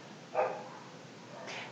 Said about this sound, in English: Sorry for the dogs, I cannot stop them. They bark all the day.